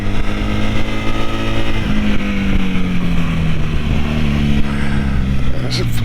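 A Honda motorcycle engine revs up from a steady idle, pitch rising smoothly toward 10,000 RPM and holding high, loud and close.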